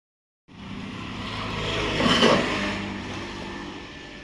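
Auto rickshaw engine on a Konkan village road, a steady motor drone that starts abruptly and swells slightly in the middle before evening out, close and moderately loud with no talking.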